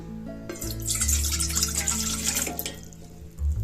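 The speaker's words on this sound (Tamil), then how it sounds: "இதுல 1 கப் தண்ணி சேர்த்துக்கலாம்." A cup of water poured into a pot on a stove makes a close, steady splashing trickle that runs for a few seconds, with no talking.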